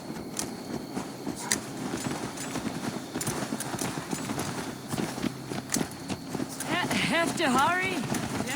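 Horse hooves clip-clopping at a steady walking rhythm in Assassin's Creed Valhalla, continuous and moderately close, under game music and a character's speech, with a brief whinny-like voice near the end.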